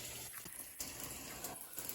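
Whey from homemade goat cheese being poured through a cheesecloth strainer into a bowl: a faint, continuous watery splashing and trickling, fairly close, with slight surges and no talk.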